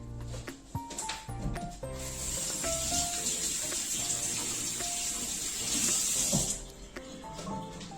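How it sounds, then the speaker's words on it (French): An apple rinsed under clear running tap water, a steady splashing flow that lasts for most of the stretch with light handling knocks mixed in. "Donc on va simplement la laver à l'eau claire."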